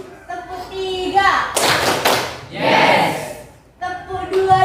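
Children in an Indonesian classroom clap a rhythmic pattern together, producing two strong, thick bursts of clapping from the whole group, with chanting voices leading in and resuming afterward.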